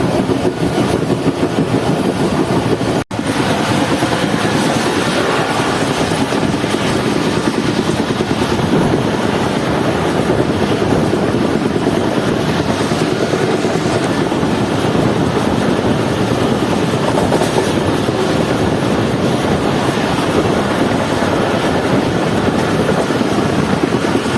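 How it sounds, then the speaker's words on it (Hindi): The Fareed Express train pulls out of Liaquatpur railway station in Pakistan, a loud, steady roar of wheels and carriage rumble heard from on board with a faint clatter, continuous throughout with no talk. "तो ट्रेन निकल रही है लियाकतपुर रेलवे स्टेशन से।"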